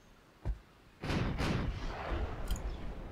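Naval gunfire strikes in the warship game Ultimate Admiral Dreadnoughts, a sharp distant thud followed by two heavy booming hits that roll into a sustained rumble of battle.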